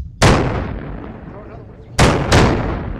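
Grenade explosions in the Project Reality: Vietnam video game: three loud, sharp blasts, one early and a close pair near the end, each followed by a long rumbling decay, with no talk.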